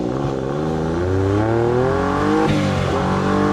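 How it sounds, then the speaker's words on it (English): Turbocharged engine of a tiny 1997 Suzuki Cappuccino accelerating hard, a loud, close rising whine and growl that climbs through the revs, briefly dips as a gear changes, then pulls up again with no talking. "Oh yeah, I can hear that turbo"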